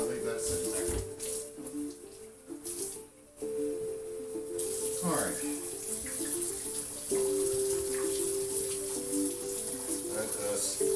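Hot water runs from a tap into a sink while people chat close by during home mead brewing; the flow cuts out briefly, then returns as a brighter, louder hiss that continues to the end.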